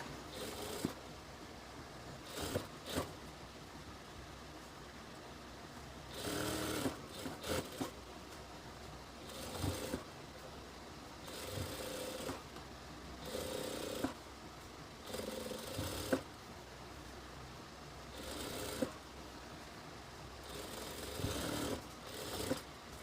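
A sewing machine runs in short bursts as it stitches along the edge of a hijab, each run a few seconds long and separated by quiet pauses, faint and close.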